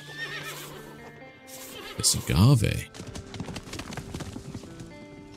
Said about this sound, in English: Come on, horse, let's go ride off.